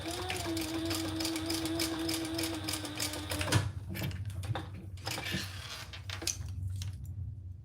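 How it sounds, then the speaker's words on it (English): A sewing machine top stitches fabric tabs, running in a steady close whir for a few seconds, then breaking into uneven clicks and short bursts of stitching as it stops and starts. "let's top stitch our tabs"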